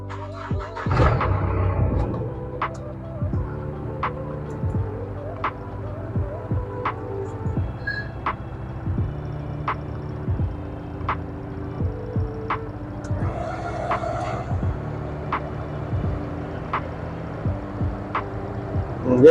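Air conditioning running inside a 2015 Mahindra Bolero ZLX, a steady low hum inside the cabin with faint regular ticks roughly once a second, continuing evenly for about twenty seconds.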